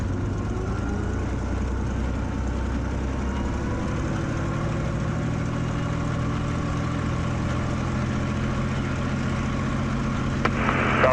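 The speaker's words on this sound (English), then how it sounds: "Okay, so we just run the engine up to start with." A Mk IX Spitfire, ML407 'Grace', runs up its engine, a deep steady drone heard from the cockpit with a rising tonal hum layered over the throb, continuous and even throughout.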